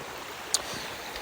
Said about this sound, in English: look at this river coming out of the mountains of Cherokee, North Carolina